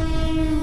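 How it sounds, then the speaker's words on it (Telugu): The Kerala Express passing Ongole railway station sounds a loud, steady, close horn blast over the rumble of the moving train. "కేరళ ఎక్స్ప్రెస్"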